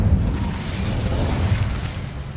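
Incendio fire spell cast in Hogwarts Legacy, a steady low roaring whoosh of flames lasting a couple of seconds, loud and continuous with no talking.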